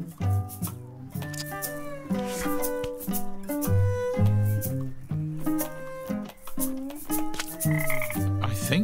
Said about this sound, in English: It's just a frog.